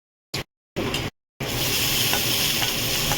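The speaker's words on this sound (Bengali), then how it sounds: "রসুনটা ফ্রাই করে নেবো।" Garlic frying in oil in a pan, with chillies, onion and tomato to follow for a fish dish, gives a steady close sizzle after two brief bursts, with stirring scrapes mixed in.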